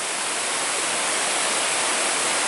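A waterfall in the Yakushima World Heritage forest, a loud, dense, continuous roar of falling water heard close up with no voices.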